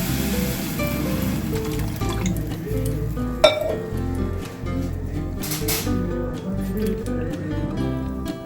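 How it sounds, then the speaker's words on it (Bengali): Water poured steadily into a pan while cooking elephant apple chutney, a continuous close splashing pour with a single sharp clink of the pan partway through. "এবার এতে আমি জল ঢেলে দিচ্ছি, আর একটু জল দিয়ে দিচ্ছি"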